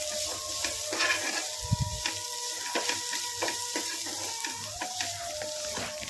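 Onions frying in a pan, about half cooked, as a pinch of turmeric goes in for a bitter gourd fry: a steady close sizzle with repeated scraping stirs and a soft thump near the start.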